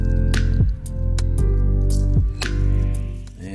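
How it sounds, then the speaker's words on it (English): Wet concrete being spread with a trowel over a furniture form, a series of close, loud squelching and dripping scrapes at an uneven, slow rhythm. "I'm just basically troweling it around until it's nice and even."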